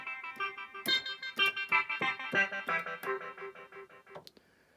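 Notes played on a Yamaha DJX keyboard with an echo or cross delay DSP effect, a run of bright tones repeating and trailing into one another, dense and steady before thinning out at the end.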